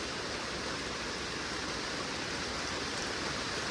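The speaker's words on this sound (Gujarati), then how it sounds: "ભાઈ વરસાદ બહુ જોરમાં ચાલુ થઈ ગયો છે" Heavy rain pours down outdoors in a wild mushroom-picking spot, a dense, steady roar of broadband hiss that never lets up, loud and close with no pauses or voices.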